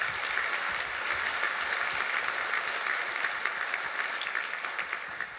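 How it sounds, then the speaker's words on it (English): A breakfast audience at a Boys & Girls Club fundraiser claps in sustained, dense applause that stays loud and even throughout, with no voices over it. "please, a round of applause for them as well"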